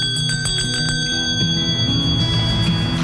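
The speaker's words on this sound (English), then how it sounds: "the day would begin with the ring of the school bell" A handbell of the kind once rung by a teacher to open the day at a one-room schoolhouse, clanging in a steady run of repeated strokes, loud and close, with no talk.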